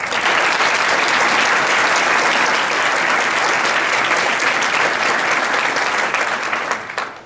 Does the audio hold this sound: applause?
yes